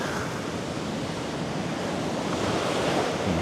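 Ocean waves break on a beach at Matara, Sri Lanka, making a continuous broad roaring wash that builds slightly toward the end, with wind rushing across the microphone and no voices.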